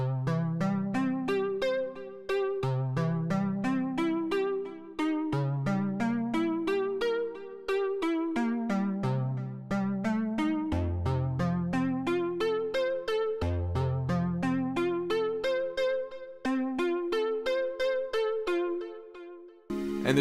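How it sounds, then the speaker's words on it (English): Synth melody variation from a song, a repeating phrase of soft plucked notes over deep sustained bass tones, playing steadily and alone with brief dips between phrases. "we have kind of a repetition of that synth melody from earlier"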